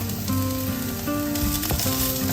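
Paneer dry fry sizzles steadily in a hot pan, a close, continuous hiss of frying with faint stirring noises and no talk.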